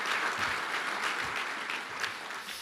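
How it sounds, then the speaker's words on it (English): Sustained audience clapping fills a hall at a Rhode Island hockey hall of fame induction, honoring the event staff, as a dense, even applause at moderate distance with a few sharper claps standing out. "they should receive a round of applause"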